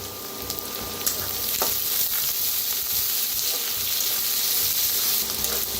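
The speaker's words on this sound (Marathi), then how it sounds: "ह्याच्यात टाकूया कोथिंबीरच्या बघा अशा काड्या कवळ्या कवळ्या आणि कांद्याची पात, ती बी भाजून घेऊया" Tender coriander stems and spring onion greens fry in a pan with onion, giving a continuous loud sizzle with a few stirring scrapes and clinks. No one speaks.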